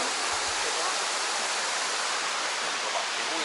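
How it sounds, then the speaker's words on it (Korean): Steady rushing water pours continuously at Seoknamsa temple in Ulsan, a dense, even roar with no pauses, like a nearby waterfall or fast stream. "시원한 물소리."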